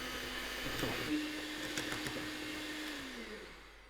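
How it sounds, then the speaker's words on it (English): An electric hand mixer whisks eggs, sugar and vanilla essence for a Madeira cake, giving a steady motor whir with beater clatter that runs for about four seconds before winding down, with no talking. "Using my electric mixer, I'm going to give this a quick whisk."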